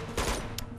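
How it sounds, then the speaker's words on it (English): Gunfire in the video game Uncharted 2: Among Thieves, a quick burst of a couple of sharp shots, brief and fairly faint against background game noise. "I can just only hear the gunshot"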